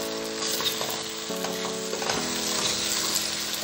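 White beans sizzle steadily in a hot pan while a utensil stirs them, giving close frying crackle with scraping strokes and a faint tonal hum underneath, and no talking.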